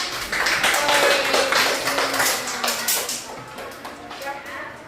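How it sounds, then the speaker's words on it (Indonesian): A classroom of students claps together in a burst of scattered, close hand claps that swells and then fades out over a few seconds. "Tepuk tangan."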